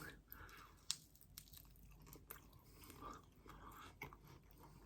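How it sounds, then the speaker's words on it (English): Crunchy chicken wings coated in Vodou hot sauce are chewed close to the mic, with soft, irregular crunches and bites over a quiet background. "Bit more of a crunch than last week"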